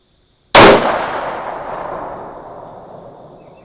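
A single loud rifle shot from a .308 firing 168gr Speer Gold Dot loads, a sharp close crack followed by a long rolling echo that fades over about three seconds.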